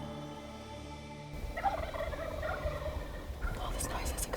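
Wild turkeys gobble in a springtime field, several birds calling in overlapping bursts at middle distance after a quieter opening, with no voices.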